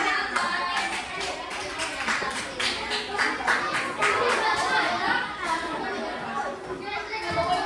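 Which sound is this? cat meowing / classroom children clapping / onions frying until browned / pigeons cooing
classroom children clapping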